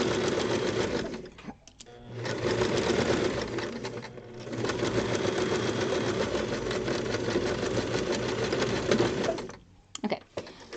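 A sewing machine stitching a seam with green thread, a close, loud, steady motorized hum with brief pauses for backstitching near the start and a stuttering stop at the end.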